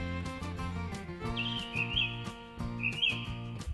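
Cartoon crow and sparrow chirp in a few short, high tweets over a steady, bouncy musical backing, fairly faint and without talk.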